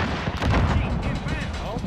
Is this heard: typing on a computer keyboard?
no